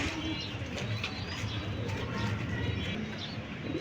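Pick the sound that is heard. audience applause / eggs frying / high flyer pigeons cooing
high flyer pigeons cooing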